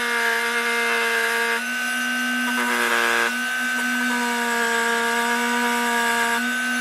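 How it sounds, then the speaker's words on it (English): Dremel rotary tool with a small sanding disc shaping a turned wooden snowman, a loud steady high whine running continuously with slight pitch shifts as it contacts the wood, no talking. "use the Dremel with the small sanding disc in it and just shape it"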